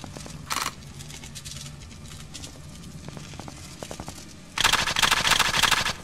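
Shotgun blasts from the video game Blood Waves: a short sharp burst early on, faint scattered shots through the middle, then a loud dense volley of rapid firing near the end.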